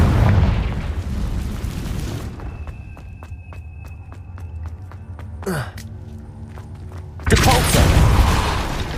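A Confringo fire spell in Hogwarts Legacy goes off in a loud, broad boom at the start, then a second burst near the end, with quieter in-game rustles and footsteps between.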